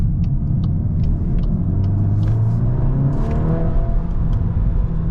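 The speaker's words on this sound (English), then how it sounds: "That exhaust is just banging and banging and banging." A Volkswagen Golf R Mk8.5 Black Edition engine rumbles and revs, with a series of sharp, irregular pops and crackles from the exhaust over the steady drone.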